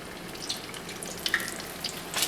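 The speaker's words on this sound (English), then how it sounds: "a little sizzle going there" Soft, crackling sizzle of crab cakes frying in hot oil, with scattered pops and hisses over a low steady background.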